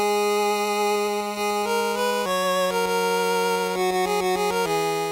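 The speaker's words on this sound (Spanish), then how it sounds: "si en el título original la banda sonora con las limitaciones de la época suena así" Bright, buzzy square-wave melody over a steady pulsing bass, stepping through short notes in an 8-bit style, loud and continuous without any voice; the NES-era soundtrack of the original Ninja Gaiden.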